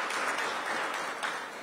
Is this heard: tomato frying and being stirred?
no